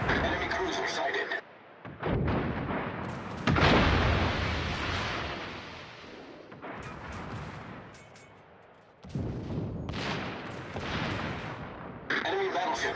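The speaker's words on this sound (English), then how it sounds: "All stations, concentrate fire on the target." Heavy naval gunfire in the World of Warships video game during a tier 6 clan battle, with booming broadband blasts and sustained rumbling salvos rolling under intermittent speech.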